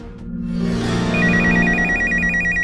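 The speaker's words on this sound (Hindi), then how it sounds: "ये आया हमारे पहले कॉलर का कॉल।" An incoming caller's phone rings on a live call-in show, a loud electronic ringtone that swells in and repeats a rapid warbling tone over a sustained backing hum.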